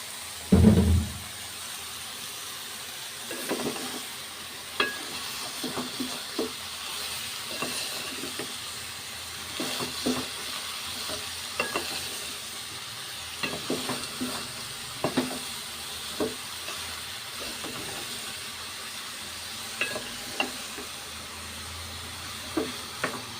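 Bottle gourd pieces cooking in a pan, a soft steady sizzle with occasional scraping stirs at irregular intervals, close by and fairly quiet, with no talking.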